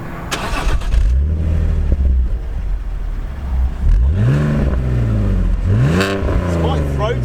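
A car engine revs through its stock exhaust, rising and falling in several throaty, close pushes with a deep rumble, while people talk over it.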